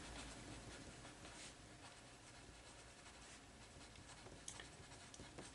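Pen scratching on paper while a coach's name is written, faint close-up strokes in short irregular bursts over quiet room hiss.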